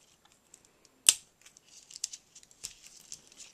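Scissors cutting tape for a handmade Father's Day card, one sharp close snip followed by faint crinkles, light taps and rustling at the table.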